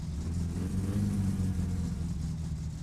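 A car engine in the video game My Summer Car, the Satsuma, runs steadily at idle with a deep, continuous low rumble, close and fairly loud, with no talking.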